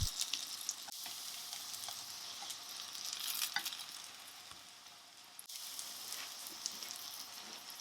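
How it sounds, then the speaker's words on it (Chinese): Batter fries in a pan over medium-low heat for a quick breakfast, giving a soft, steady close-up sizzle with faint crackles and no talking. "油热之后就下入面糊，保持中小火来煎制"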